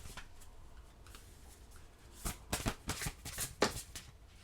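Oracle cards are shuffled and drawn close by, with soft scattered flicks at first, then a denser flurry of riffling and slapping in the second half.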